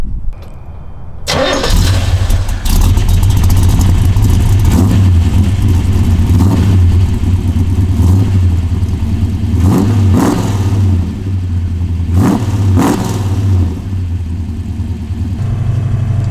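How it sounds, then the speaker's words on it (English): An old-school muscle car with roughly 10.8:1 compression cranks and fires up, then revs hard several times in loud, throaty bursts over a rumbling idle, close to the microphone. "It fires up on that first twist of the key and just wants to go"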